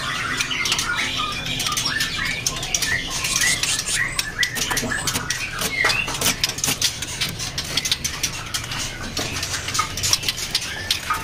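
Caged magpie robins (murai, trotol type) at a bird dealer's, many birds chirping and squawking together in busy overlapping calls, near and loud, with metallic cage rattles among them.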